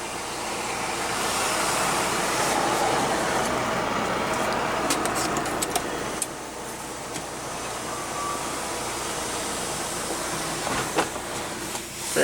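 The motorized sunroof of a 2016 Audi S3 opens with a steady, low electric whir inside the cabin, running continuously with faint clicks and no speech.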